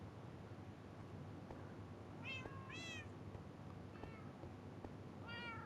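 Several pet cats in the video game Minecraft meow in a loose cluster of four or five quiet, short meows spread over a few seconds above a faint steady background hum, no speech.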